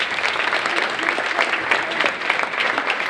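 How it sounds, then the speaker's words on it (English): A crowd at a Kenosha Kindness event applauds a 9th-grade student artist, a steady, full wash of clapping that holds at an even level throughout. "Let's give her a round of applause."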